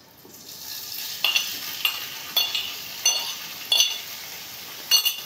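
Chicken mince being stirred in a hot pan, a soft underlying sizzle broken by about seven sharp spatula scrapes and metallic clinks at a roughly regular pace, close by and with no talking.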